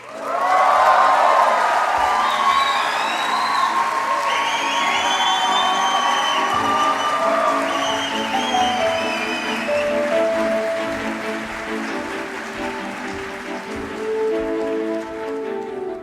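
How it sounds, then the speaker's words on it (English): A graduation ceremony crowd at a hotel management school bursts into loud, sustained applause mixed with cheers and whoops, strongest at first and then easing into a steady roar. "Thank you for the applause."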